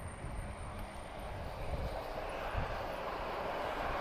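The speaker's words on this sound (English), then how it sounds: "And we have a very lovely Embraer E190 long range." A TAP Express Embraer E190 long-range jet at Lisbon produces a low, steady engine rumble that builds gently over a few seconds, fairly faint and distant, with a thin high whine.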